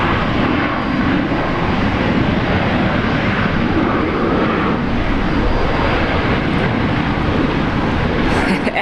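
An aircraft on the runway at Brisbane International Airport, a loud, broad, sustained engine roar that fills the whole stretch without letup.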